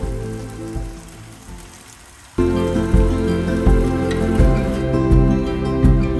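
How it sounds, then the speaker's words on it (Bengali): Boiled noodles drop into a hot pan, and a quiet sizzle suddenly jumps into a loud, steady crackling fry that continues close by. "এরপর সিদ্ধ নুডলসগুলোকে এর সাথে দিয়ে দিন"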